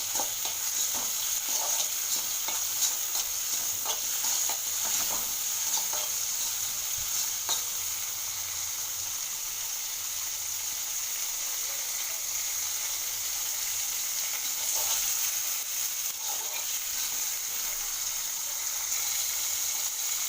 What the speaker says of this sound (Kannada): ಟೊಮೊಟೊ ಮತ್ತು ಹಸಿಕಾಯಿ ಹಸಿ ವಾಸನೆ ಹೋಗೋವರೆಗೂ ಬಾಡಿಸ್ಕೋಬೇಕು ಅದನ್ನ